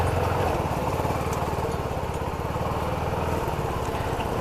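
A motorcycle engine idles close by with a steady, rapid, even putter, alone and fairly quiet, while the bike is being parked at a temple.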